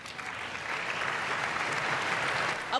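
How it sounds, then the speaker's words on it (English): Steady applause fills the House floor during a State of the Union address, a dense, continuous clapping from a large audience that holds evenly throughout with no talk over it. "Applause rang out throughout the House floor on Tuesday night"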